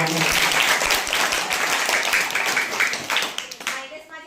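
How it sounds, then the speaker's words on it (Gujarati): A school audience claps steadily through a maths day quiz, loud, dense applause filling the room, with voices talking over it before the clapping thins out at the end. "ચલો સરસ તાળી તો મારો"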